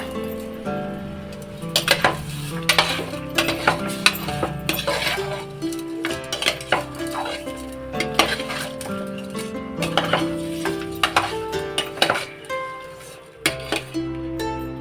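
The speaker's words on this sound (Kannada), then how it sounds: "ಉಪ್ಪು ಹಾಕಿ ಅರಿಶಿನದ ಪುಡಿ ಹಾಕಿ ಒಂದು 10 ನಿಮಿಷ ಚೆನ್ನಾಗಿ ಹುರ್ಕೊಳ್ಳೋಣ" Metal utensils clatter and scrape against a pot as chicken masala is stirred and fried with salt and turmeric, giving repeated clinks and knocks in an uneven rhythm, close and fairly loud, with no talk.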